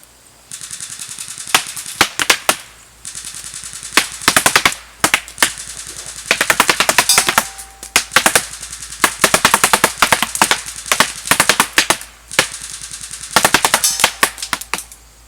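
An M249 Featherweight SAW airsoft gun fires close up in repeated sharp automatic bursts of rapid clatter, separated by short pauses, loud and alone without talk.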